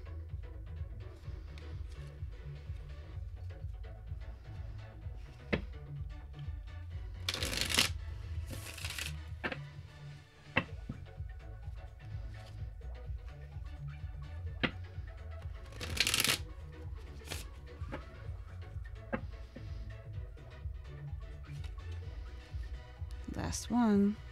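Rebel Deck tarot cards are shuffled by hand close up, with soft repeated riffling and sliding interrupted by a few sharp bursts of cards snapping together, while a person talks quietly underneath throughout.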